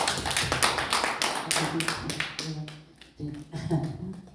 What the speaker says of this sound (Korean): 다시 한번 박수 하겠습니다.